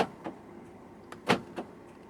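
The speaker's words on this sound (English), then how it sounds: "To fold the side mirrors in from the inside, twist this knob to the top." The power-folding side mirrors of a 2023 Proton X90 fold in, giving a few faint, short motor whirs and soft clicks separated by quiet pauses inside the cabin.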